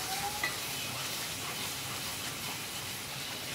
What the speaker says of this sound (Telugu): ఇది మంచిగా ఫ్రై అయ్యే వరకు ఇలా ఫ్రై చేసుకోవాలి.